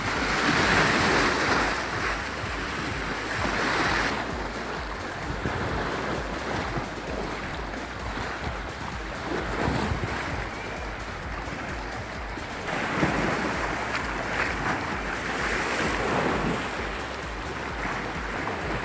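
Sea waves breaking on the Red Sea shore in Egypt, a steady close wash of surf rising and falling in broad swells, with wind buffeting the microphone and no talk.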